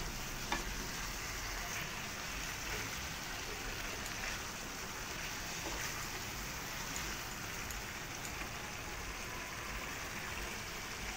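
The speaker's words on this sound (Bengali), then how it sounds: "মাংসটাকে খুব ভালো করে কষিয়ে নেবো।" Chicken pieces being stir-fried and braised in a pan for a spiced Bengali chicken dish give a steady, close sizzle with faint stirring scrapes, constant throughout and with no voices.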